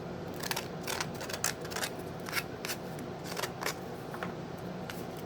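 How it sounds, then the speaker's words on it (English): Scissors snip repeatedly at rough paper edges on a Dollar Tree napkin ring holder craft, giving a quiet series of irregular crisp cuts with no talking. "You can actually use a pair of scissors to clean that off."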